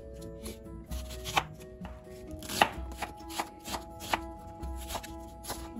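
A knife chopping yellow onions on a board, a run of crisp, fairly quiet cuts in an irregular rhythm with a few louder strikes, close by and with no talking.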